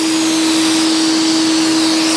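A shop vac runs loudly and continuously, sucking squash bugs off garden plants, a steady close roar with a strong constant whine.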